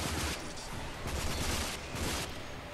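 Assault rifle fire in the shooter game Rage rattles in rapid sustained bursts, a dense continuous volley of gunshots close up with no pauses.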